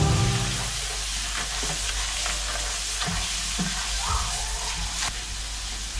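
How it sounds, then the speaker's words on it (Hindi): Flour fried in a pan over a medium flame sizzles steadily while a spoon stirs and scrapes through it, close and moderately loud, with no voices. "इसको थोड़ा सा फ्राई कर लेंगे, बस इसको नरम करना है, इसको ब्राउन नहीं करना।"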